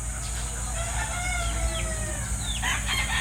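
Fighting roosters at a backyard farm crow in drawn-out calls with scattered clucking, several birds at middle distance over a steady low hum, no talking.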